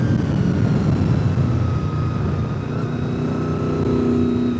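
A motorcycle rides along a small winding road, its engine droning steadily and fairly loud with a slight pitch drift and wind rush, no speech.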